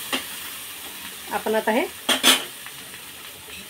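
Pigeon pea grains roasting in a dry pan, stirred in a few short scraping, sizzling bursts, close up, with a person talking briefly at the start.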